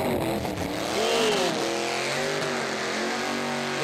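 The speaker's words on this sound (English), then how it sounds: "He's very methodical with his burnout." A car does a burnout at the Summernats street machine event, its engine held at a high, wavering howl with revs rising and dipping and tyres screaming, loud and continuous throughout.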